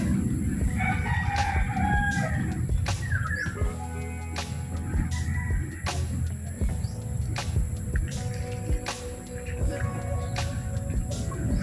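Roosters crow and birds call around a leafy home garden planted with assorted fruit trees, a steady mix of farmyard fowl vocalizations at moderate distance with faint murmuring voices underneath.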